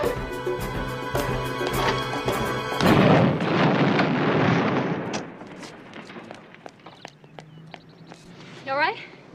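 A bomb explodes indoors with a loud, broad, rumbling blast after tense music, then debris and clatter settle and fade with scattered knocks.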